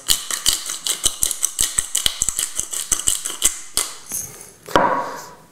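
A hand-cranked pepper mill grinds whole black peppercorns in a kitchen, producing a close series of rapid crunchy clicks and cracks in an irregular rhythm, then a short scrape at the end, with no talking.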